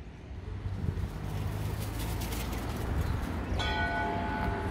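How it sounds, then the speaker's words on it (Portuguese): A small bell rings near the end over steady street and vehicle noise, heard from inside a Toyota Hilux SR driving on a paver-stone town street; a brief tonal strike with a sustained ring after it. "Ó, tocou o sino."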